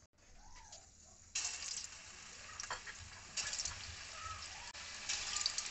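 Vegetable pakoras dropped into hot oil in a kadhai, a steady close sizzle with bubbling crackle that jumps louder as more batter goes in, continuing without talk.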